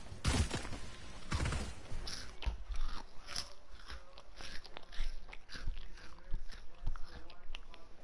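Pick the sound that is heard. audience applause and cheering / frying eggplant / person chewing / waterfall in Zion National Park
person chewing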